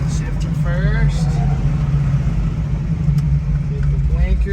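A 1968 Shelby GT500KR with a four-speed manual drops into first gear, a deep engine rumble held steady and close while someone talks over it.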